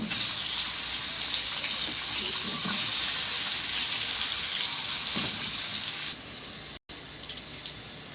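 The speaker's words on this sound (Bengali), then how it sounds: "এবার বেগুনগুলো ভেজে নেব" Eggplant pieces frying in hot oil for a Bengali curry with hilsa fish, potato and eggplant, a steady loud sizzle running throughout, easing somewhat near the end with a brief dropout.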